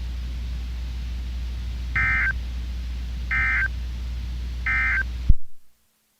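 Three identical steady beeping tones from a NOAA Weather Radio all-hazards alert test sound at even intervals over a constant low hum, then the signal cuts off sharply into silence.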